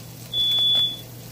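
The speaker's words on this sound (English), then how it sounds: "my fire alarm decided to assume I was burning down the house" A home smoke detector sounds a single sharp, steady high-pitched beep of about half a second while dinner is being cooked, loud and close over a low kitchen hum.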